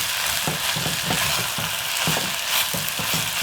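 Chili powder stir-fried in a hot pan with oil while making soft tofu stew, a steady bright sizzle broken by regular scraping strokes of stirring, loud and close with no voices.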